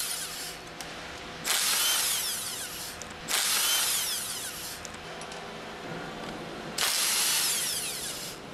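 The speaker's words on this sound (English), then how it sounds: "Use the impact wrench with a 10mm hex drive attached to remove the remaining 6 retaining" Impact wrench with a 10mm hex drive removing retaining bolts on a 70 and 71 series engine, firing in three loud rattling bursts of hammering over a steady mechanical background.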